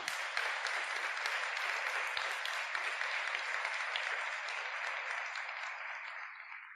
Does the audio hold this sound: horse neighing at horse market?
no